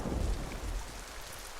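Thunder rumbles through steady rainfall in an animated scene, a low, loud roll near the start that fades into a soft rain hiss, with a sharp crack at the very end.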